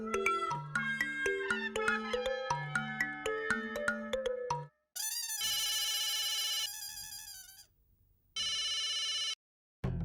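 A telephone rings during a call in a busy housing society, first as a melodic ringtone tune and then as two long bursts of electronic trilling separated by silence.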